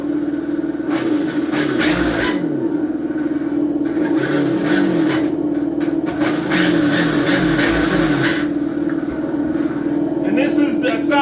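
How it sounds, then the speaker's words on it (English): Simulated drift car engine from an ESS Dual+ sound module, a loud continuous droning hum with repeated rising and falling revs, accompanied by a whooping voice partway through. "This is a drift sound of a drift car."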